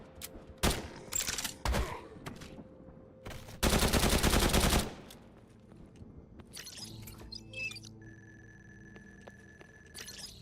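Video game gunfire in Ground Zero rings out as several sharp single shots, then a dense sustained burst of about a second, loud and close, followed by quieter electronic game tones and beeps.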